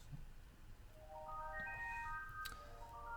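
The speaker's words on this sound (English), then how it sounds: "That's my phone ringing." A phone rings in the background during a live stream, a rising series of melodic ringtone tones repeating over roughly two seconds, faint behind low room noise.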